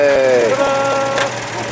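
A Citroën two-cylinder engine runs steadily just after a hand-crank start, giving a soft, even idle with a faint rhythmic patter. People talk over it throughout.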